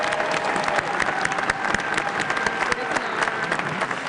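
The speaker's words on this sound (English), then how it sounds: "So I want to give her a great round of applause." A crowd at a robotics competition opening ceremony, the FTC Relic Recovery South Super Regional, gives a loud, continuous round of applause with scattered cheers, steady from start to finish.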